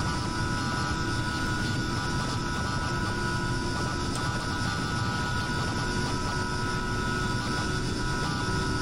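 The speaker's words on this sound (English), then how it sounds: "Sorry if my plane is destroying your hearing" A loud, constant airplane engine drones with a steady tonal hum and broadband roar in Microsoft Flight Simulator. It comes from an older FSX-era aircraft on a coastal flight from Nigeria to Gabon, and no one speaks.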